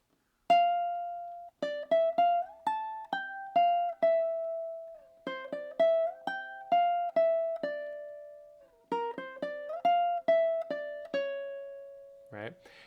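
Ukulele plays the second melody section of a song, fingerpicked notes in a steady rhythmic pattern, clear and close with brief pauses between phrases, no voices.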